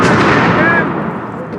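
A small artillery gun fires at a historical reenactment, its loud boom opening the moment and rolling away in a long fading rumble with distant, indistinct voices beneath.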